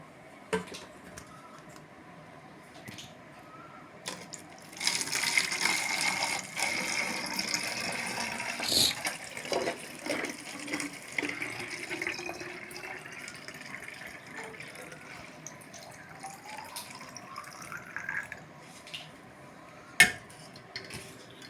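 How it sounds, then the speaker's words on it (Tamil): Banana liquid fertilizer water is poured into a bottle, giving a faint, close trickling and gurgling with light clinks of containers, starting after a few seconds and continuing unevenly before a sharp knock near the end. "ஏற்கனவே உள்ள அந்த தண்ணியை பாருங்கள் அதை இந்த பாட்டிலில் எடுத்துடுறோம்"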